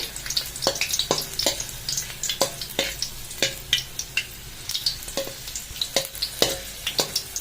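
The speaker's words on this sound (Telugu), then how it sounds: "వెల్లుల్లిని కూడా వేసి లైట్గా ఇది త్వరగా కలర్ చేంజ్ అయిపోతుంది కాబట్టి ఇది బాగా ఫ్రై చేసుకునే ఉండండి" Garlic frying lightly in a pan for gongura pachadi, a steady sizzling hiss punctuated by repeated sharp scraping and stirring clicks at an irregular rhythm, close and clear with no voices.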